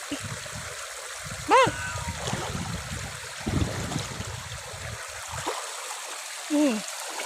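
A shallow stream of flowing water gives a continuous soft trickle and babble outdoors, with a few small splashes, while someone talks over it and a voice cries out briefly.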